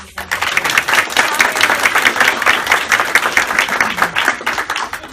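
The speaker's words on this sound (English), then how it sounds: "We have to give Kim a round of applause" An audience applauds Kim at a town placemaking workshop, dense steady clapping from many hands lasting about five seconds, fairly close and loud with no talk over it.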